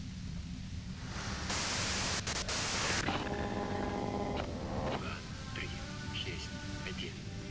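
Harsh radio static hisses in a video game, loud hiss bursts with a steady crackling bed and faint tonal chirps behind it, fluctuating over several seconds.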